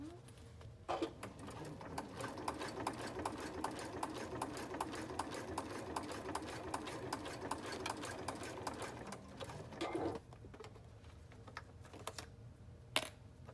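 Sewing machine stitching steadily along zipper tape while making a binder pouch, a fast continuous mechanical rattle running for about nine seconds, then stopping, followed by a few light clicks and handling sounds.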